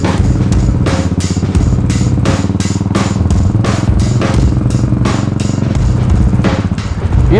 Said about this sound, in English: and we are riding now.